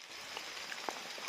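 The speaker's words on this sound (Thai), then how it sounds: "ฝนมันก็ตกเริ่มตกน้อยแล้วเนาะ" Rain falls steadily in a rural northern Lao setting, a soft continuous patter with a few louder individual drops striking a surface nearby.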